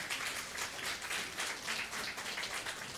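A congregation at a New Year's church service applauds steadily, a dense, even wash of clapping at moderate distance with no pauses.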